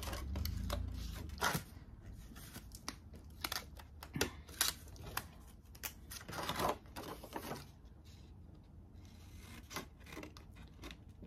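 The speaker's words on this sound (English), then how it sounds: "just keep cutting till you get all the way to the end of this piece of paper" Scissors snipping along a sheet of paper for a DIY gift box: a series of quiet, close, irregular cuts with short pauses between them and no talk.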